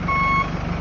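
Forklift reverse alarm beeping, a single sustained high electronic tone over a low idling engine drone, close and loud, no voices.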